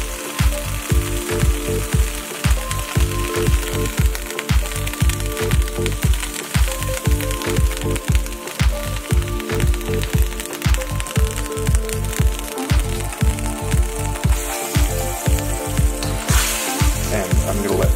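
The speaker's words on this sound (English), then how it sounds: "I'm going to let that boil off for a while" Broccoli, far too much of it, bubbling and sizzling in a pan as its liquid boils off, a dense, steady crackle with a rhythmic low pulse running through the whole stretch, no voices.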